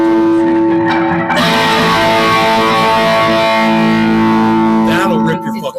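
Electric guitar played through a half-watt Boss Katana mini amp with effects, sustained distorted chords ringing loudly with a chorus-like shimmer and a sudden stop at the end.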